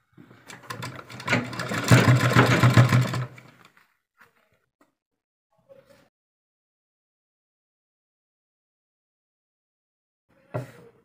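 A sewing machine stitches a sleeve design in one loud, close burst of about three seconds, then falls quiet apart from a couple of faint handling clicks and a brief thump near the end.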